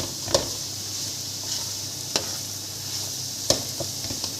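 Softened onions sizzle in a pan with black pepper added, a steady low frying hiss broken by a few sharp scrapes and taps of a spoon stirring, close by and without speech.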